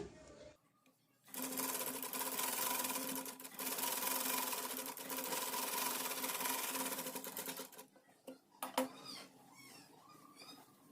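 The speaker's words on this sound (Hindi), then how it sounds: "यहाँ पे जितने फासले पे सिलाई लगाई थी उतने ही फासले पे हमें इधर पे भी सिलाई लगानी है" A sewing machine stitches a semi patiala salwar in one long, rapid mechanical run, then stops and restarts in a few short bursts, close and clear with quiet pauses between.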